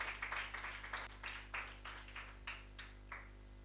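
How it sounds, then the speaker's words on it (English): At a school quiz competition, a small audience applauds a teacher with sparse, faint, distinct handclaps, a thin scattered rhythm over a quiet room hum. "A round of applause for teacher ISHMAEL Memorial."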